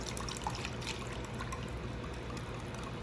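Milk is poured into batter for fresh seafood lumpia, giving a steady, soft liquid stream that runs close-up throughout with no talking.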